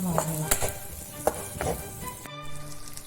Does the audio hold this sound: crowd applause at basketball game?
no